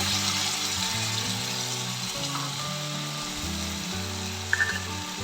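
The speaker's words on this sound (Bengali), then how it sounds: "যে মশলাটা রেডি করেছিলাম মশলাটা দিয়ে দিলাম দিয়ে নাড়তে থাকবো" Spice paste sizzles steadily in hot oil in a pan while being stirred for a jackfruit seed dish, a close continuous frying hiss with a faint clink near the end and no voices.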